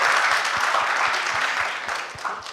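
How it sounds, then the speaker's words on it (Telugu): Audience applause at a film promotion event for the movie UI, a dense, steady wash of clapping that holds loud throughout and fades slightly toward the end, with no speech over it. "ఒక క్లాప్స్ కొట్టండి, ఎంత ఐడియాస్."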